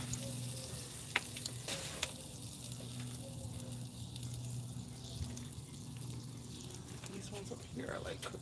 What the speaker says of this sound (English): I need these ones right here to get sizzling